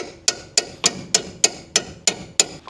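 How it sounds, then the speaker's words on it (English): A crowbar is hammered into the ball joint pinch bolt of a Mazdaspeed 3, with nine sharp metallic strikes at a steady, even rhythm, each loud and close, with no talking. "I'm using a crowbar and I'm hammering it in there so that way there's less tension holding it on"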